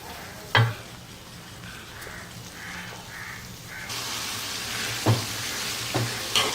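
Turmeric, curry masala, coriander and chili powders stirred into a frying pan for bottle gourd kuzhambu, a steady sizzle with a few sharp clinks of the spoon against the pan, close and alone.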